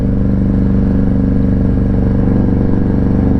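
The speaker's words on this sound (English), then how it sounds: "I am thinking about putting a little quieter of an exhaust on here" A motorcycle's loud exhaust idles up close with a rapid, even throbbing pulse and mechanical clatter, steady throughout with no talking.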